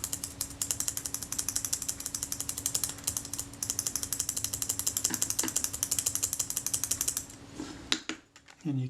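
The focusing ring of a Kodak Retina IIIC camera is worked back and forth, producing close, steady runs of fine mechanical clicking and ratcheting that continue for several seconds and then break off into a few separate handling knocks at the end.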